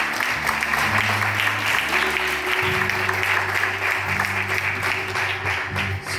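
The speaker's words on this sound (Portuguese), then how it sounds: "dê para Jesus uma linda salva de palmas" Congregation in a church gives sustained, lively applause with music playing underneath, a steady, dense patter of clapping throughout.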